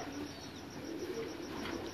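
Pigeons cooing in a champion racing loft, soft low coos repeating over a steady background hiss, with no talking.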